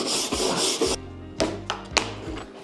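A hand rubs across the grain of a wooden surface on a homemade moss picture. About a second of dry, close brushing friction is followed by a few soft knocks and light handling taps.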